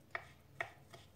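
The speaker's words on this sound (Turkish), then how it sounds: "Çok ince kıyacağız bunu. Öncelikle ince ince dilimlere kesiyoruz." Eggplant being finely chopped with a knife, two soft close knife taps on a board followed by a fainter third, quiet and without voices.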